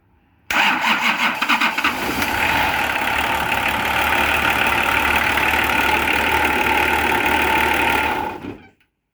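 A Nissan LD28 diesel engine cranks briefly and catches, then settles into a loud, steady, clattering idle close by for several seconds before cutting off abruptly.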